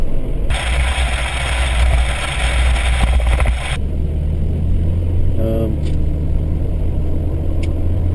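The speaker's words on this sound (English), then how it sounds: "Two DEP trucks going the other way." Two DEP trucks pass in the opposite direction, a broad loud rush of road and engine noise that swells and cuts off abruptly, heard from inside a vehicle over a steady low engine hum.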